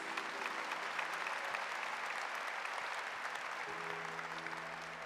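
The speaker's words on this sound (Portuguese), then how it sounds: "Vamos aplaudir a palavra de Deus." Church congregation applauding after a Gospel reading at a Catholic Mass, a steady wash of many hands clapping at moderate distance, sustained evenly for several seconds before tapering slightly.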